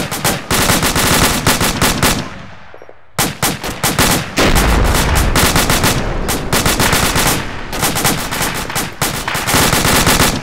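Sustained heavy gunfire during a forward operating base defence: rapid, loud machine-gun bursts and rattling volleys nearly fill the stretch, with one brief lull partway through.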